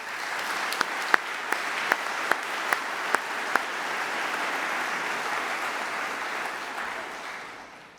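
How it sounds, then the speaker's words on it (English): Audience applause fills the room at the Boston Preservation Alliance 2014 awards ceremony, a steady wash of clapping from many hands with a few sharp, close claps standing out early, then tapering gently toward the end. "Please join me in a round of applause to thank all these many people."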